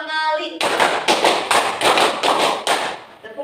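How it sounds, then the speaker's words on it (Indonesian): A classroom of students clap in unison in an Indonesian teacher-training lesson, striking two quick groups of five sharp claps each, loud and close, with the teacher's voice heard briefly before and after. "tepuk 5 2 kali"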